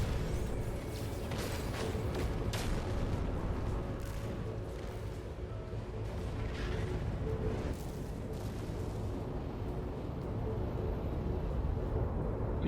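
Freighter weapons in No Man's Sky fire during space combat as a dense, continuous rumble of booms and gunfire. The sound stays loud throughout, with faint scattered sharper reports.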